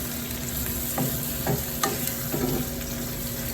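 Escargot warming in a pan with a splash of sherry gives a constant dense hiss with a few soft scrapes and bumps from stirring, close by and fairly even.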